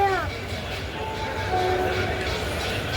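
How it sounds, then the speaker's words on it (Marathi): Train at Pune railway station: low continuous rumble with a brief horn-like tone at the start, heard under people talking nearby. "आता आम्ही पुणे स्टेशनला आहे."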